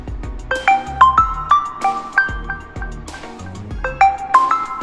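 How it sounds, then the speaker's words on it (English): The default OnePlus ringtone plays on a phone running a ported Oxygen OS 11 McLaren Edition ROM, a bright melodic sequence of chiming tones repeating in a steady rhythm, clear and close with no talking. "so the OnePlus original, OnePlus default ringtone also here is available"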